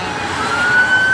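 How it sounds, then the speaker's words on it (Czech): Ambulance siren wailing steadily in passing traffic on a motorway, a single rising tone heard from moderate distance over road noise. "To je záchranka."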